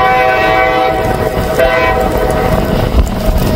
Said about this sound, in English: There's that train all the way down there through the fence.